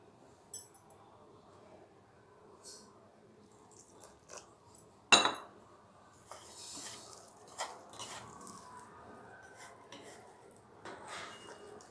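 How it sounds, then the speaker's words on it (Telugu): A spoon scrapes and knocks against a bowl while jalebi batter is mixed with small additions of water. The clinks are soft and intermittent, with one sharp knock midway, in a quiet kitchen. "కొంచెం కొంచెం వాటర్ యాడ్ చేసుకుంటూ కలపండి"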